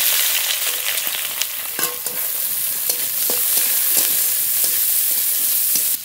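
Chopped onions fry in hot oil with cumin seeds, dried red chillies and whole garlic in a wok. A continuous close sizzle carries scattered sharp clicks and scrapes from stirring, with no voices.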